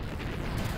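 Gunfire and explosions from a Godot Engine video game strike buildings in a low, continuous rumbling barrage of booms, fairly steady throughout and with no voices.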